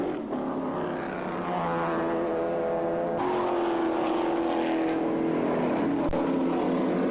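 Race cars roar past on a road course, a Corvette leading as they plunge downhill under a bridge into turn seven, engines droning loudly and continuously with rising and falling pitch from several cars, no talk.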